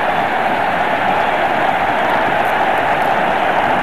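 Big cricket stadium crowd roaring after a wicket falls in a Bangladesh match, a steady, unbroken wash of cheering noise that stays loud throughout.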